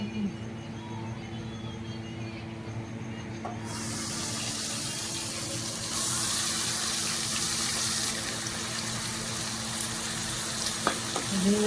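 Onion, garlic, red capsicum and masala sizzle and fry in a pan for a village-style mutton curry, a steady close crackle that grows louder midway, with a few scrapes of stirring.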